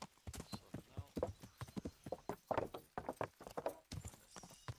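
Horse hooves clip-clopping steadily in the video game Kingdom Come Deliverance, a rapid rhythmic run of hoof strikes close and clear throughout, with a faint whinny-like tone mixed in.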